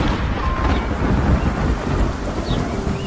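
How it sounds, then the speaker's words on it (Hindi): Torrential rain pours with thunder rumbling through a storm, a dense, loud roar of downpour that continues without a break. "लेकिन तभी लगातार कई दिनों तक मूसलाधार बारिश होने लगी।"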